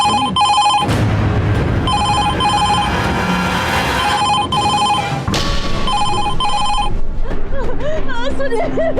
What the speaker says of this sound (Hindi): अंकिता का फोन आया था